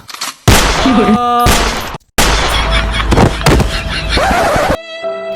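Gunshot sound effects in a Bangla comedy sketch crack out in loud, sharp bursts that cut in and out abruptly, mixed with a ringing tone and some voices.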